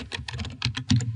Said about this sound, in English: So I'm going to type some text.